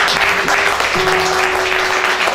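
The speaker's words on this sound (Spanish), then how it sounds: "Margarita Sosa, a quien me gustaría pedir un aplauso," An audience at a cultural event on political song applauds continuously, a dense, steady wash of clapping with a faint tonal hum underneath.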